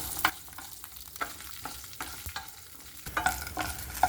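Shallots and dried red chillies sautéing in a pan, a soft steady sizzle broken by a few scrapes and taps of a spatula, quiet and close with no talking.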